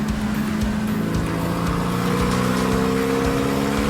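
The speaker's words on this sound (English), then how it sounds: "Here on the chassis dyno, the drivers will rev their cars up as fast as they can to see how much power and torque they're making" A race car revs hard on a chassis dyno at the SCCA Runoffs, its engine note a loud, sustained wail that climbs steadily through the rev range and holds near the top, with no voices over it.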